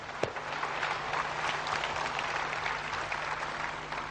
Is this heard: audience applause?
yes